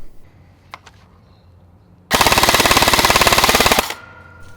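A modified XTB Stinger gel blaster fires a rapid full-auto burst of about two seconds, a dense even stream of sharp shots, loud and close, with quiet room tone before and after.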